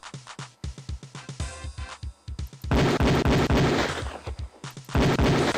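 Beretta pistol shots ring out on a police firing range in the game Police Quest 4: sharp, close single reports in quick irregular strings, with a dense cluster of overlapping shots in the middle.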